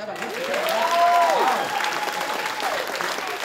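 An audience at a comedy show breaks into applause, a steady close crowd of clapping, with a voice briefly speaking over it near the start.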